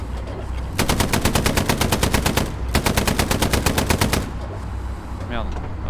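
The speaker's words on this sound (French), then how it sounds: "Continue de mitrailler au cas où." Machine gun fire in Hell Let Loose comes in two long, loud, rapid bursts, each a steady hammering stream, followed by quieter battlefield noise.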